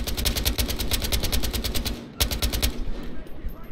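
Rapid automatic gunfire from a Battlefield Hardline Conquest match on the Dust Bowl map, a loud sustained burst that cuts out briefly, then resumes with steady bursts.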